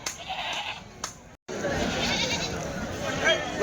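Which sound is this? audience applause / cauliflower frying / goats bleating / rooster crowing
goats bleating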